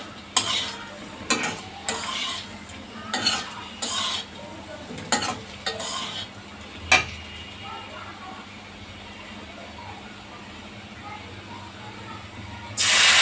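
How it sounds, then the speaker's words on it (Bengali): White cumin seeds frying in a pan for a snakehead fish curry, with a steady low sizzle and several sharp scraping stir strokes in the first seven seconds, then quieter sizzling. "কিছুক্ষণ অপেক্ষা করে সাদা জিরাগুলো একটু নেড়ে চেড়ে দিব।"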